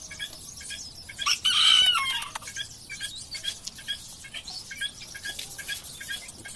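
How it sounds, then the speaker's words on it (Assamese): A rooster on a farm beside tomato fields crows once loudly, then clucks and chirps repeatedly at moderate distance amid faint outdoor background. "এইয়া দেখিছেনে কিমান মজা কুকুৰা এইটো হ'ল মতা কুকুৰা"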